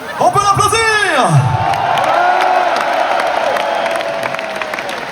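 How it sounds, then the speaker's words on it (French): At a live show, a swooping voice-like tone glides down and away, then audience clapping and scattered cheers build and settle into steady applause, with crowd chatter underneath. "On peut l'applaudir!"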